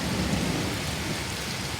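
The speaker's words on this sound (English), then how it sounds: "What was this rain actually?" Heavy rain pours down in a dense, steady roar of close hissing noise, continuous and unbroken with no voices.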